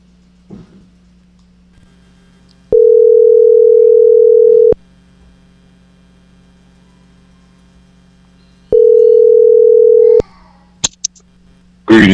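A telephone ring tone for an incoming call-in to a live show sounds in two long, loud, steady electronic bursts separated by a quiet gap, with faint clicks around them.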